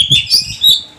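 An oriental magpie-robin (kacer) sings in a few quick, bright chirps and whistled notes, close and fairly clear, over a low murmur of background noise.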